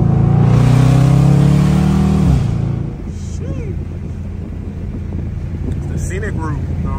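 Dodge Charger R/T on windy downtown Chicago roads: a loud, close engine rev climbs steadily for about two seconds, then cuts off sharply and leaves a rumbling road and wind roar.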